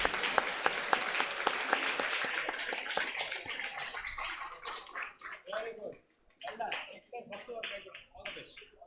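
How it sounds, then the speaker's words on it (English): An audience at a school award function claps in a dense round of applause that gradually thins into scattered individual claps, with a brief near-pause before a few final bursts. "Give a round of applause, please."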